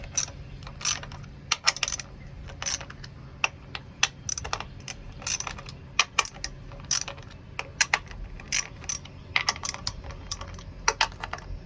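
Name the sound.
ratchet loosening jet ski spark plugs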